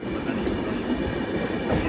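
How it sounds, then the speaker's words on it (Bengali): The Anand Vihar Express rolls past a halted train, a steady, loud wash of rail noise with continuous rumble and clatter filling the whole stretch without a break. "একটার পর একটা ট্রেন যাবে"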